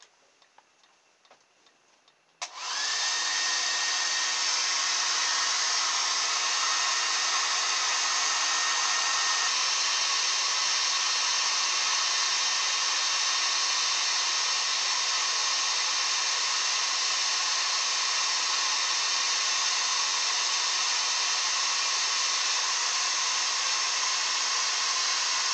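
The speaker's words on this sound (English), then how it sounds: "I've got my hairdryer here," A hairdryer switches on after a few quiet ticks and then runs continuously at close range, a loud, steady whirring blast, used to blow air across a windbelt generator.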